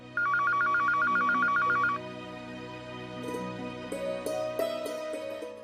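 A telephone rings with a rapid, bright electronic trill for about two seconds, then gives way to soft background music.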